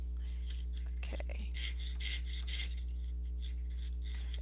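Repeated rasping back-and-forth strokes, fairly quiet, over a steady low electrical hum.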